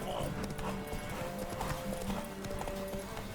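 Horse hooves gallop in a fast, steady clip-clop across the whole stretch during a ride on a mare in The Witcher 3: Wild Hunt, fairly close and continuous over a busy game soundscape.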